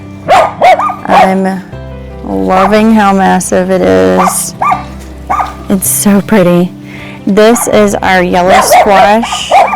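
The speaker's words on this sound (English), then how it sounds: "The neighbors have a ton of little Dachshunds, and they bark at you when you come out." Several small Dachshund dogs barking and yipping in a neighbouring yard behind a garden, the sharp repeated barks mixed under close continuous speech about vegetables.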